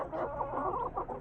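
Domestic roosters and hens cluck in a short, close burst of overlapping, uneven calls lasting about a second.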